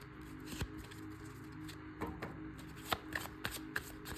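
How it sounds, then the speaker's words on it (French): A deck of oracle cards is shuffled by hand, giving soft riffling with several sharp card snaps and taps over a few seconds, close and quiet. "Avec ce jeu, je vais prendre 3 cartes."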